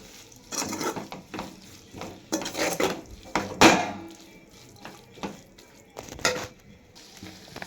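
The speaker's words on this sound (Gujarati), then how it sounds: "હવે આને કરી લઈશું આપણે સરસ મજાનું મિક્સ" Spices being stirred into vegetable soup in a pot, heard as repeated bursts of a utensil scraping and clinking against the metal pot, separated by short pauses, with a faint simmer underneath.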